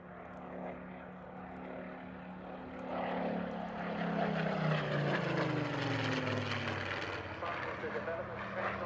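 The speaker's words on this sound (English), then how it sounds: "So first in is the Spitfire Mark 19." Spitfire Mark 19 propeller aircraft in a flying display at an airshow, its piston engine drone rising and sweeping past with a falling pitch, loud and steady over crowd ambience, with a commentator speaking over it.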